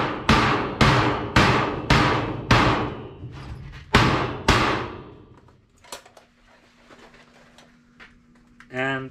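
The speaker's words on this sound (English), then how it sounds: "and use your hammer." Sharp, ringing hammer blows on sheet metal duct being snapped together, about eight loud strikes in a steady rhythm, then quieter handling clatter and a brief scrape at the end.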